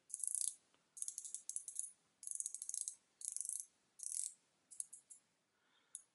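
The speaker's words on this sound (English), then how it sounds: "The bezel itself is 120 clicks." An Aries Gold dive watch's 120-click bezel being turned, giving quick bursts of crisp metallic ratcheting clicks in several separate runs with brief pauses, close up and fairly quiet.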